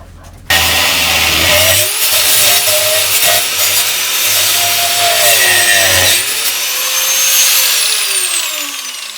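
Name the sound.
hand saw cutting wood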